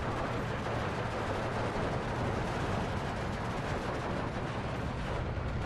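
Dense, continuous gunfire from a World War II strategy battle in Steel Division 2, overlapping shots and rumbling blasts blended into a loud, unbroken wall of combat noise with no talk.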